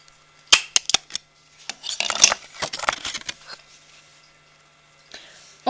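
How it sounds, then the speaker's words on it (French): A hole punch clicks through a craft piece, giving sharp snapping clicks, first a few separate ones, then a cluster of rattling snaps, close and dry, with quiet gaps between. "avec une perforatrice, vous allez venir faire 2 trous"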